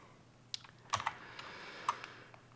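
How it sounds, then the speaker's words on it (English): Keys on a computer keyboard are pressed a few times while working in Blender, giving quiet, sparse clicks with a couple of sharper taps close to the microphone over a faint steady hum. "hit 1 on your keyboard to go there as well"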